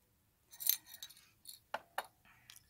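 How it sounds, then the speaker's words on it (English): Metal coins rattling inside a toy cash register, several light clinking jingles in short bursts, close and quiet. "it feels and sounds like metal coins,"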